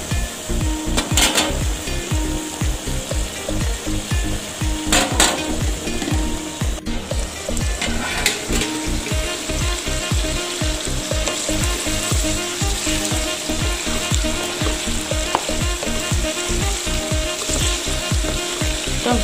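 Strips of beef fry in a covered pan for Comorian beef with onions and peppers, a steady loud sizzle with crackling pops running throughout, no voices.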